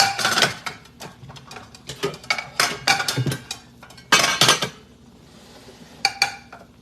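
Dishes and cutlery clink and scrape as rice is served onto plates before a meal, a close run of irregular clatters and taps with brief pauses.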